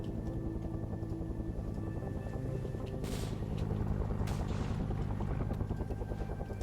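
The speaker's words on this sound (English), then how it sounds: "we can hear the helicopters coming in" In a Vietnam War video game, helicopters drone with a steady, pulsing rotor thump that grows slightly louder as they approach, with occasional faint bursts in the background.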